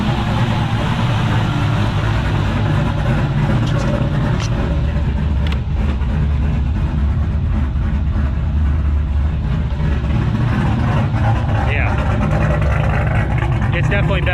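LS V8 engine idling loud and close in a swapped BMW E36, a steady heavy low rumble throughout with a slightly uneven pulse, with a voice talking over it.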